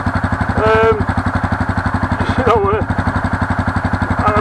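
A Honda CRF250 dirt bike engine idles and runs with a steady, fast, thumping pulse throughout, while someone talks over it.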